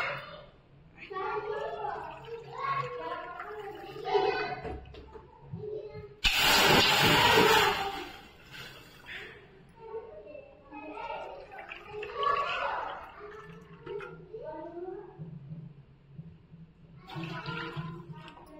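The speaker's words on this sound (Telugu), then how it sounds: "రవ్వ తీసుకున్న కప్పుతోనే వాటర్ కలుపుకుని వేసుకుంటున్నానండి" Water tipped from a cup into a pan of roasted semolina for rava kesari makes one short, loud splashing hiss lasting about a second, with a voice talking quietly before and after.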